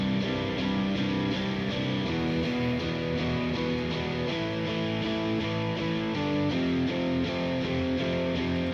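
Layered grunge electric guitars spread wide across the stereo field, strumming sustained chords that shift every couple of seconds in a dense, continuous wall of sound, no voices.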